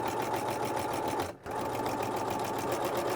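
Sewing machine running steadily close by as it stitches an X shape through overlapping elastic on a waistband, with one brief pause midway before the even whirring resumes.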